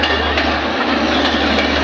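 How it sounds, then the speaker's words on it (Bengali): A slow train rolls past on railway tracks close by, a steady heavy rumble and rushing roar filling the whole moment with faint clanks and no voices. "লাস্ট বগি শেষ হলো কেবল এক মিনিটে ট্রেনটা আমাদের এখান থেকে অতিবাহিত হলো"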